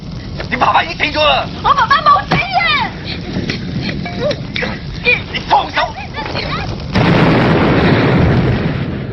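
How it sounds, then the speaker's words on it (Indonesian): A ship explodes in a Hong Kong gambling film, a deep rumbling burst of blast noise rising near the end, loud and close, following a stretch of clipped effects and voices under narration in Indonesian. "Kok Chun langsung membawa anak itu meninggalkan kapal yang ternyata akan meledak."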